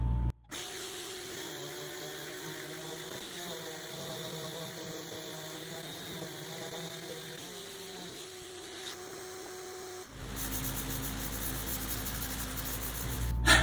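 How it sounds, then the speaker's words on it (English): A shop vacuum and a big fan in a guitar workshop give a steady, fairly quiet whir and hiss, with a louder, broader roar building near the end. "turn on the shop vac and the big fan"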